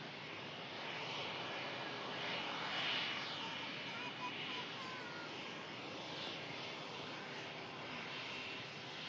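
A British Airways shuttle airliner at Manchester Airport, near Terminal 3, gives a steady broadband engine roar at moderate distance, holding fairly constant throughout with a slight swell in the middle.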